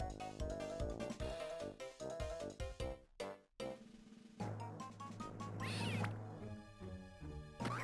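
Cartoon cat meows from the rhythm game Rhythm Heaven Silver, heard as short cries woven into a busy, percussive musical track with clattering hits and crash-like accents.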